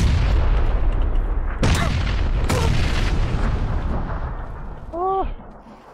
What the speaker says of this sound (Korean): 수류탄 온다 아, 아 수류탄 망했다